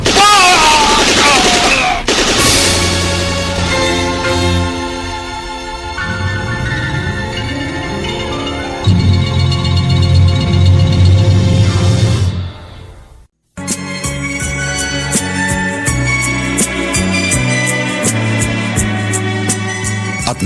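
Gunfire sound effect from a Filipino radio drama, loud bursts mixed into dense dramatic music and effects, followed by a brief silence and then a new stretch of music.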